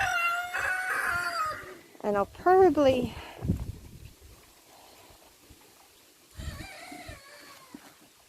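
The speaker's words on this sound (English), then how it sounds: "these girls are in here with one of my young Rhode Island red roosters" Rhode Island Red rooster and hens in a paddock, with a rising crow-like call and scattered clucks, close by, mixed with a person talking over them at the start and end.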